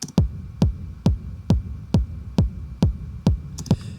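A punchy, compressed techno rumble kick drum thumps steadily about twice per second, each hit a deep booming rumble with a sharp click on top.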